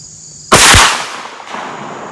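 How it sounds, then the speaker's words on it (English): H&R 32 gauge shotgun firing a single .50 caliber sabot slug on an outdoor range: one sharp, loud blast followed by a short fading echo. "My first shot."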